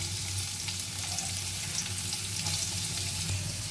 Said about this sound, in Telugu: ఉల్లిపాయలు బాగా వేగిపోయాయి కదా